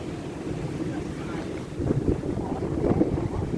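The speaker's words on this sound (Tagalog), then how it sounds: "Grabing hangin dito." Heavy wind buffets the microphone in a continuous low roar at Hill 60, Port Kembla, gusting stronger partway through, with the wash of surf in the background.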